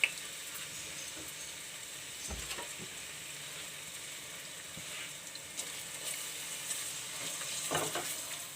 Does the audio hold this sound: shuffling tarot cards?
no